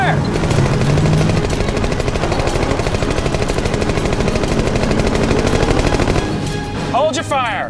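A machine gun with a drum magazine fires at paint cans in a long rapid burst of loud close shots for about six seconds, then stops, followed by shouting.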